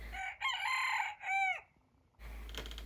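A rooster perched atop a chicken run crows once, loud and close, a single long strained call with a rising and falling tail, followed by quiet and then faint background noise.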